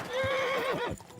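A horse in a video game neighs close up, a single high whinny that wavers and falls off, with a few soft hoof thuds underneath.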